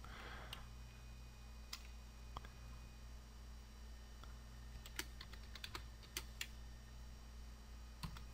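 Quiet, sparse keystrokes on a computer keyboard while Arduino code is typed, isolated clicks and short bursts scattered over a steady low background hum, with no talking.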